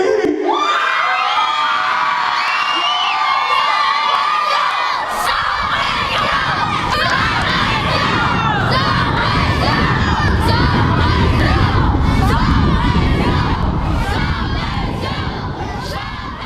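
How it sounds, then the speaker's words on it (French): A large crowd at a show in Natashquan cheering, whooping and shouting loudly, with high children's voices mixed in, a dense sustained roar that builds and stays steady at close range. "Faites du maximum de bruit pour mon frère SP!"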